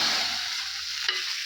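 A hot tempering of curry leaves and red chillies is poured into rasam (chaaru) and gives a loud, close burst of sizzling that hisses on and then settles toward the end.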